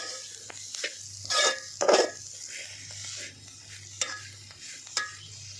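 Takla, a Konkan wild monsoon vegetable, being stirred in a pan: a few distinct, close scrapes and clinks of a spoon against metal over a soft low sizzle and steady hum, with no talk.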